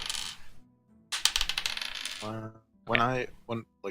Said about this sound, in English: Let's roll some dice to see how many he has.